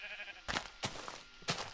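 Sheep in the Minecraft video game bleat in three short, bright calls spaced about half a second apart, heard over a steady background of game ambience.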